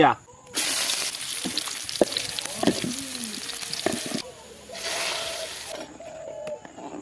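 Chopped onion and garlic sizzle loudly in hot oil in a pan, making a tempering for bottle gourd lentil dal, with two long bursts of frying hiss and stirring scrapes as a voice speaks over it.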